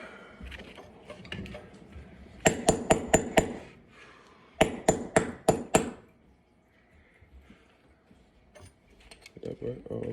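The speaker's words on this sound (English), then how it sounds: "I need to chisel." Metal hammer strikes a chisel in two quick bursts of five or six sharp ringing blows, close and loud, with people talking quietly between and after them.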